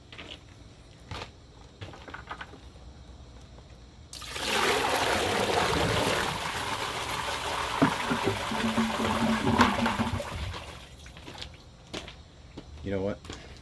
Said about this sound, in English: the next test I'm going to do is just a straight bucket flush, nothing in the bowl, but a half a bucket